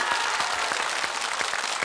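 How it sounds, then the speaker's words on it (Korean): A studio audience on a KBS family game show claps for contestant Jeong Seung-ho: brisk, dense applause at steady loudness throughout, with distinct sharp claps standing out near the front. "다시 한번 정승호 씨 박수 주십시오"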